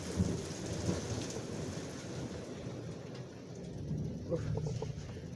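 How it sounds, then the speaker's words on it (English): Rain and thunder roll outside a car window, steady rainfall with low rumbling thunder throughout and a few faint clicks near the end, all at a moderate level with no voices. "Rain coming in."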